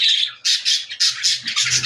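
Budgerigar parrots squawking close by in a quick series of about seven shrill, scratchy bursts with short gaps between them.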